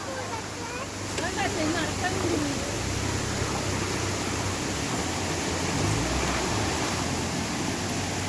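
A small waterfall and flowing water at Meenvallam in Palakkad make a loud, continuous, even rush that fills the whole scene without letting up.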